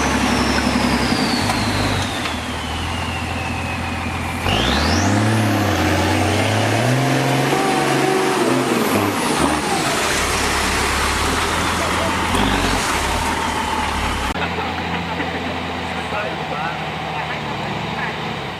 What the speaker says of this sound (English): a massive log truck attempting to navigate a dangerously inadequate wooden bridge over a river